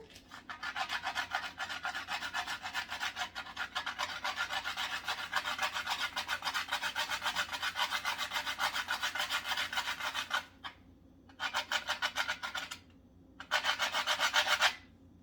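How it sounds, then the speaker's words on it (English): Whole nutmeg grated by hand for a Jamaican sweet potato pudding, a close, steady rasping scrape of rapid strokes for about ten seconds, then two shorter bursts after brief pauses. "so I'll grate my nutmeg"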